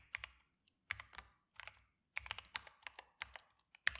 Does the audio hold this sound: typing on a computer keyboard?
yes